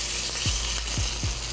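Rib eye beef searing in a smoking-hot pan gives a steady close sizzle and hiss throughout, with a few brief low thumps or scrapes against the pan.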